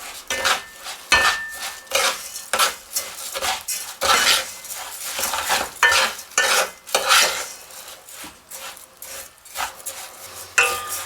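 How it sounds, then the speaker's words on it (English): Two cups of rice frying in melted manteca lard for cilantro lime rice, stirred continually until golden: repeated close scraping strokes and light clinks of a utensil against the pan over a soft sizzle. "Now the manteca's melted down, we're going to add 2 cups of rice. And we're going to get that rice golden brown."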